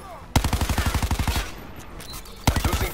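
Turret gunfire from the Call of Duty Black Ops 4 campaign, a loud rapid burst of evenly spaced shots lasting about a second, a pause, then a second burst starting.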